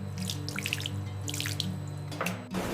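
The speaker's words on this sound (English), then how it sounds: "Clean water gently removes mucilage, while parchment protects the beans" Clean water sloshing and trickling as parchment-covered Red Catuaí coffee beans are rinsed and washed free of mucilage, a steady close stream with scattered drips and splashes throughout.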